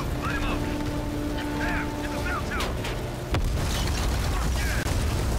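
An RPG rocket explodes in a Call of Duty Cold War campaign mission: one sharp, loud blast cuts in after a stretch of busy game noise and tones, followed by a rumbling, noisy tail, with some voice in the mix.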